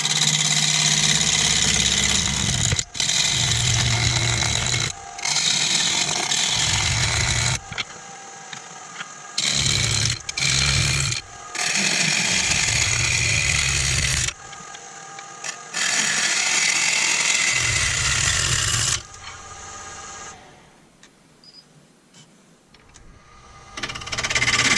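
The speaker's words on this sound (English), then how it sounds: "Righto, 1000 RPM, 5/8 bowl gouge. Let's start chipping away." Elm bowl being turned on a wood lathe at 1000 RPM with a 5/8 bowl gouge: loud, rough cutting noise in bursts broken by short pauses, fading to a quieter motor hum at the end.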